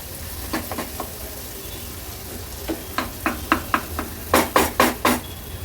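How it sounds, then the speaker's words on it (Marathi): Chopped tomato stirred and sautéed in a pan over a high flame, with a spatula scraping in quick strokes above a faint steady sizzle. The scrapes come in short clusters that grow louder toward the end. "गॅसची फ्लेम हाय करते आणि हाय फ्लेमवर व्यवस्थित परतून घेते।"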